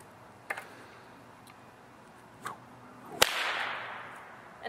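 A fuel-soaked fire whip cracks sharply once near the end, after two fainter snaps earlier, followed by a brief rushing whoosh, with a quiet outdoor background throughout.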